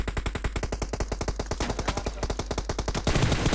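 PUBG Mobile gunfire: a steady burst of rapid automatic shots, evenly spaced and loud, rattling for over three seconds before a louder muddled blast of noise at the end.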